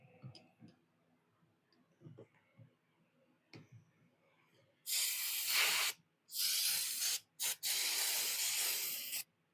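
Spray can hissing in three loud bursts, one long, one shorter and one long, while cleaning the headstock of a 1940s Atlas metal lathe. The bursts follow a stretch of faint clicks and handling taps.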